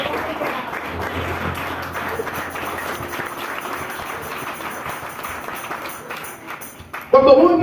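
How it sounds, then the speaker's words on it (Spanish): A church congregation at a worship service applauds in sustained, dense clapping for several seconds, with voices mixed in, and ends in a sudden louder burst. "Denles aplauso al Rey."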